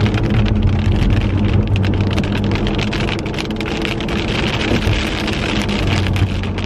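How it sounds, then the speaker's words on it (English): Steady rain patters densely and loudly on a surface, a continuous close hiss with scattered sharper drops throughout. "can y'all hear the rain?"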